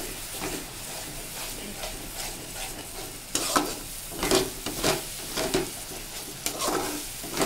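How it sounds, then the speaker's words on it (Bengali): Onion, garlic and masala paste stirred and frying in a pan, with a steady sizzle and repeated scraping strokes of a spoon that grow louder and more frequent partway through. "দেখো এবার আবার নড়াচড়া করতে হবে।"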